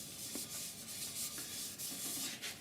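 A cloth rubs sanding sealer onto a wood piece held on a stationary lathe, making steady, close, continuous soft rubbing strokes with no pauses.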